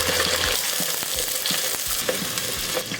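Shallots frying in hot oil with mustard seeds and curry leaves for a village-style catfish curry, a steady close sizzle with scattered pops and crackles throughout, no talking.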